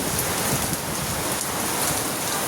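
Heavy rain pours steadily on outdoor surfaces, a dense, continuous hiss with scattered close drips and patters, loud and unbroken throughout.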